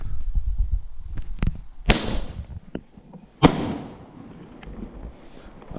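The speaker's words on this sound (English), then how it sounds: "Star Strobe Shot Tube. This is 10 grams, by the way." A 10-gram Star Strobe Shot Tube firework fires outdoors: two sharp, loud bangs a second and a half apart stand out among several smaller crackles and pops, with a noisy rushing tail after each blast.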